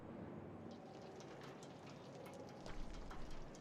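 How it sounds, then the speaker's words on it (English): Soft patter of light rain on a window in Honkai: Star Rail, a faint continuous hiss dotted with tiny drop ticks, with a low rumble rising near the end. "You hear what sounds like light raindrops gently falling on the window."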